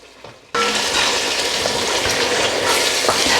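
Tomato and onion masala for aloo gobi frying in a pan with small splashes of water added, a loud, steady broadband sizzle that cuts in abruptly after a brief quiet start and holds without talk.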